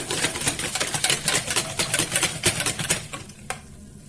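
Egg and water being stirred together in a bowl, a rapid run of close, rhythmic clinks and scrapes, fairly loud, with no talking.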